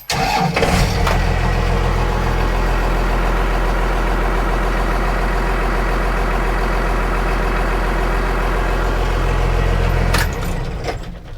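A First Gen Cummins diesel truck engine cranks over and settles into a steady, loud idle with heavy low rumble and cab road noise, running continuously for about ten seconds before cutting off.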